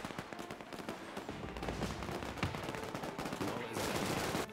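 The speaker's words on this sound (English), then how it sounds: "You guys get on that machine gun." Machine guns fire in the WWII strategy game Men of War 2. Overlapping bursts of automatic fire and scattered shots make up a busy battle din, rather quiet and distant.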